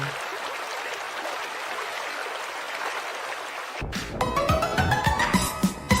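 Broadband rushing water from a river flows steadily for several seconds, then gives way to louder, tonal music with a beat near the end.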